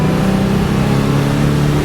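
A 1973 Pontiac Grand Am with a 400 V8 and four-speed revs hard as the carburetor secondaries open, giving a loud, steady, throaty engine roar throughout.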